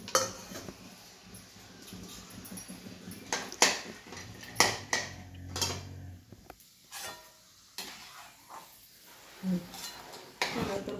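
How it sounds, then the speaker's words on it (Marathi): Peanuts fry in oil in a pan, a soft sizzle running under intermittent scraping and clinking of a spoon against the pan, some strokes sharp and close, with quieter gaps between. "हे शेंगदाणे थोडेसे आता तळून घेते."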